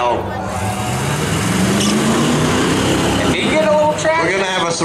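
Trucks drag racing at Beech Ridge, a Ford among them, roar past with a loud, rising engine note that climbs steadily, while spectators talk over the noise.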